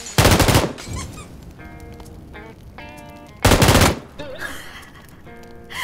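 Crossbow shots fired in a video game during a live stream, sounding as two loud, sharp bursts about three seconds apart, separated by quieter in-game clicks and chimes.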